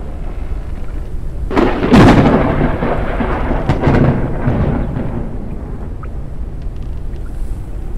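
Thunder rumbles through a lightning storm in the video game Forever Skies, a loud crack and rolling boom near the start fading into a long low grumble with no talking.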